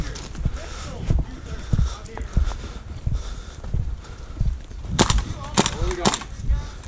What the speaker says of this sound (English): Is that a gas blowback rifle?